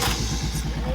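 A motorcycle engine turning over and catching, with a throttle blipped lightly so it chugs in an uneven low pulse, close and fairly loud with a faint voice underneath.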